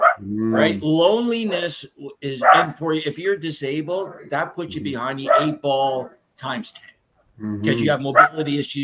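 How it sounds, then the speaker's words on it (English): A dog barks intermittently in the background of a room while a person keeps talking steadily over it, the barks partly buried beneath the voice. "Sorry, that's my dog bark."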